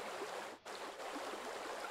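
Airlock in a Tower Unite condo cycling water, a steady rushing, bubbling wash of water that fills the whole moment, briefly dipping before surging back, with no talk.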